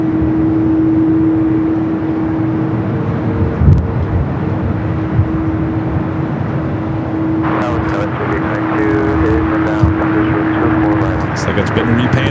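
A jet airliner at Los Angeles LAX airport, a loud steady engine roar with a sustained tonal whine, joined partway through by a voice talking over it.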